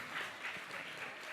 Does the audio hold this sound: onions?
no